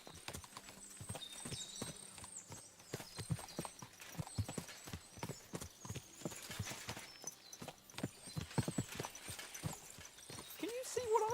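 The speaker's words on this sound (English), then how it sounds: "What a lot of horses." Horse hooves clip-clop in a steady, overlapping patter from several horses in Kingdom Come Deliverance 2, with a horse whinnying occasionally and voices talking over the hoofbeats.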